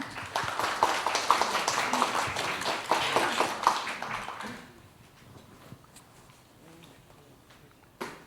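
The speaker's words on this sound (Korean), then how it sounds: "여러분 큰 박수 부탁드립니다." Audience clapping at a press conference for a blockchain mainnet launch, a brisk burst of many hands for about four and a half seconds that stops abruptly and leaves a quiet room.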